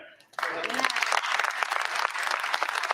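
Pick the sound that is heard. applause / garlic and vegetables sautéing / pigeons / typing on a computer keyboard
applause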